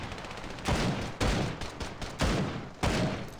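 Desert Eagle pistol in the mobile shooter Standoff 2, firing four heavy, spaced single shots, each a loud sharp crack with a short ringing tail, with no talking.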